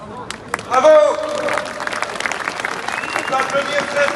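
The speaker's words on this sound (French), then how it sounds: "On peut applaudir très fort." Applause from an audience at a French political rally, a broad wash of clapping that swells early and carries on steadily throughout, with voices mixed in.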